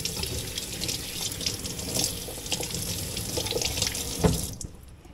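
Kitchen tap water runs steadily over a freezer bag of tomatoes, a close, continuous splashing rush with small spatters, then cuts off abruptly near the end.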